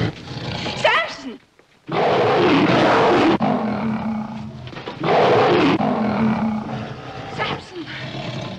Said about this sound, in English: He's a young lion.